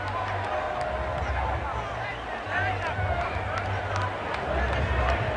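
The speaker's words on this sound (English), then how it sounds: "take the applause from the crowd" Cricket crowd at a 1995 West Indies versus Australia Test applauding a batsman, a steady broad roar of clapping and cheering throughout with a low rumble beneath.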